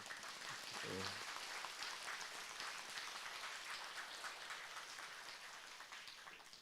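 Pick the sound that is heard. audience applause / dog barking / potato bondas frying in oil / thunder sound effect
audience applause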